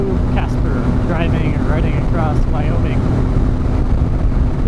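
Yamaha MT09 motorcycle cruising on a Wyoming highway, a steady loud roar of engine and wind buffeting throughout, with a voice talking over it.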